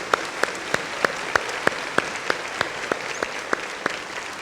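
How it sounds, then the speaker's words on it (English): Audience at a school administrators' retreat applauding a board member, broad crowd clapping with a few sharper, evenly spaced claps standing out near the front, sustained throughout. "Round of applause for Miss Duncan."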